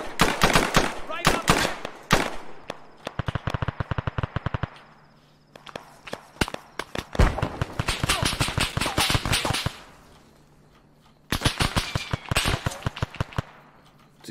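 Gunfire crackles in an Arma 3 battle, with several bursts of rapid automatic shots and single cracks, loud and close, separated by short pauses.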